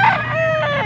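A bull stag rooster, a young gamefowl at a Pampanga breeder's yard, lets out a short, loud, close crow with a bright rising start and a sustained tonal tail.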